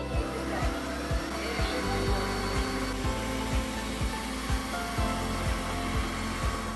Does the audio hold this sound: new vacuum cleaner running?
yes